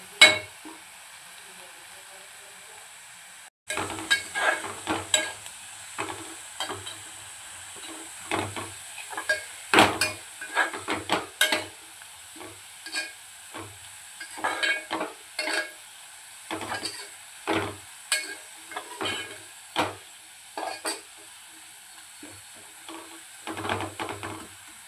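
Onions fry in a pan for egg dum biryani, a soft steady sizzle broken by repeated scraping stirs of a utensil against the pan, close and moderately quiet, with no talking.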